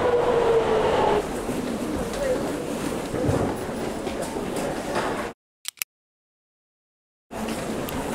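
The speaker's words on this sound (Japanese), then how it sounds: "すすきの名物の電車なんだけど、タイヤで走る地下鉄に乗ります。" A rubber-tyred subway train in Sapporo rumbles steadily along, then drops out abruptly for about two seconds, with a couple of sharp clicks in the gap before the running noise returns.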